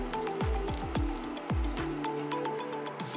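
Wet squelching and dripping as boiled lettuce is squeezed by hand over a pot while making a traditional Goral creamy lettuce soup, with repeated soft squishes and trickles close by.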